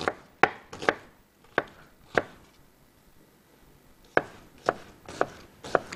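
A knife chops onion and parsley on a cutting board in a studio kitchen with a string of sharp, close knocks in two irregular bursts split by a short pause, and nobody talks.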